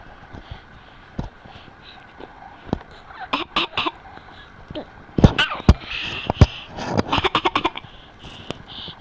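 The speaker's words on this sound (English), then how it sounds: "Well, that's a real cough." A young child coughs in short, sharp bursts that grow louder and denser toward the end, with quieter hiccup-like sounds and bits of adult talk between them.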